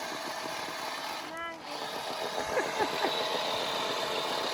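A 4WD engine idles steadily in low range at a river crossing, a continuous mid-low rumble with a brief tonal whine partway through and light background noise.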